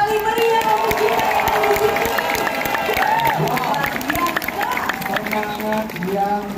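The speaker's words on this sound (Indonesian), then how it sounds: "boleh berikan tepuk tangan yang paling meriah untuk kita" A large crowd at a Democratic Party national meeting in a Jakarta convention hall claps and cheers loudly. Voices shout and call out over a constant roar.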